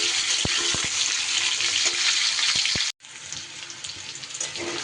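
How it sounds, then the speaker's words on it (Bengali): Potato and pumpkin pieces fry in a pan, a hissing sizzle with several sharp spatula clicks in the first half, then a brief cut followed by a quieter, steadier frying sound with no voices. "কুমড়োগুলো দিয়েও অল্প সময় একটু ভাজা ভাজা করে নেব।"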